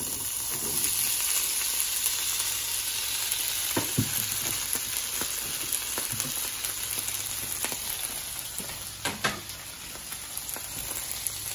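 Potatoes fry in oil in a pan with a steady, close sizzle and hiss that runs throughout, broken by occasional stirring knocks and scrapes.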